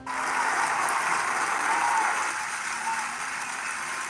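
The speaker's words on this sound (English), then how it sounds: "Let's give him applause for that." During a live church-style broadcast, a gathering gives a teacher a burst of applause, a steady wash of many hands clapping that stays full and then eases slightly, with no talk over it.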